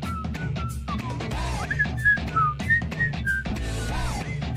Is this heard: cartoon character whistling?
yes